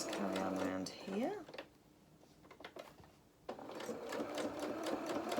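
A sewing machine stitches the ear of a fabric lamb doll, running in quick mechanical bursts with a faint pause between runs, close and fairly quiet.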